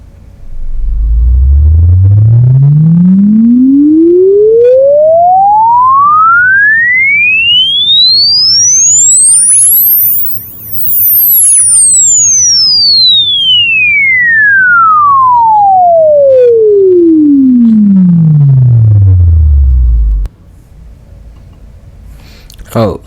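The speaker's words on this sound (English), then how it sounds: "The sound you are about to hear should retain a flawless central location through all the frequencies," Stereo gaming headset test tone: a single pure sine sweep rising steadily from deep bass to the top of hearing over about ten seconds, then gliding back down, loud and continuous, ending with a faint low rumble.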